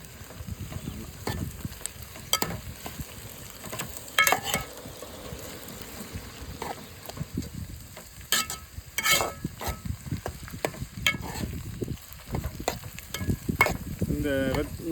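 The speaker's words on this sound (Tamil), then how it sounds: "வெங்காயம் வதங்க வதங்க வந்து நீர் விடுது நல்லாயிருக்கு" Onions and tomatoes sauté in a pan for a dry fish sambal made with Vanjaram (seer fish) dry fish, giving a steady close sizzle with repeated scraping and stirring strokes of a spoon against the pan throughout.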